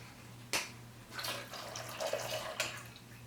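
A thin trickle of tequila pouring briefly from a leaky bottle pour spout, with a few small splashes and drips against a low steady hum.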